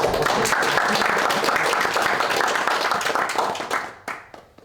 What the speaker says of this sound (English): let's do a round of applause for Sophia